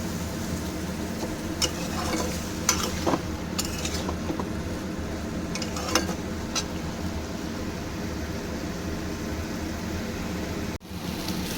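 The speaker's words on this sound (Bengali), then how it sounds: "এবার সমস্তটাই খুব ভালো করে নেড়ে চেড়ে কষিয়ে নেব।" Spices and chopped tomato are stirred and sautéed in a pan with oil, with a spatula scraping now and then over a steady low sizzle, close and alone without talk.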